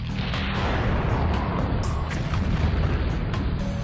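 Blasts from the General Atomics Blitzer railgun hitting targets, a dense, loud roar of booming impacts and explosions rolling together with no break.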